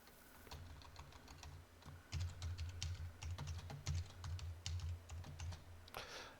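Keys clatter on a computer keyboard in a quick, uneven run of close taps as a password is entered, over a faint background hum.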